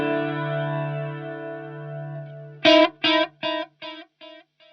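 An electric guitar chord swells in and sustains smoothly for two bars, then repeats as a series of echoing stabs that fade out one after another.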